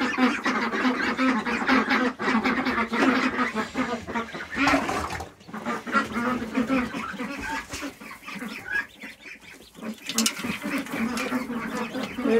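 A brood of one-week-old ducklings kept in a warm pen cheeps continuously, many high chirps overlapping close by, with a quieter voice faintly underneath at times.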